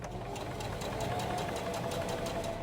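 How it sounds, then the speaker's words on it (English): A sewing machine stitches off the end of a fabric face mask with an air filter slot and nose wire, giving a steady, fast mechanical chatter with regular needle pulses that runs unbroken and fairly close. "Just sew all the way off the end."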